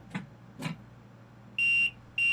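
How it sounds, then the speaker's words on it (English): Vigilance alarm in a London Overground train cab in Train Sim World 2: a steady, loud electronic tone sounds twice, first for about a third of a second, then again after a short gap, over faint cab hum. "the alarm will go off because the train is in forwards"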